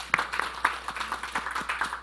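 Church congregation clapping at a Sunday service, a ragged burst of hand claps with sharp individual slaps standing out in a quiet room.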